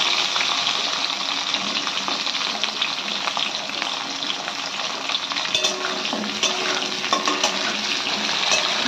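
Drumstick pieces and papaya frying in oil in a pan with bay leaf and five-spice for Bengali shukto, a steady close sizzle and crackle running throughout with occasional stirring scrapes.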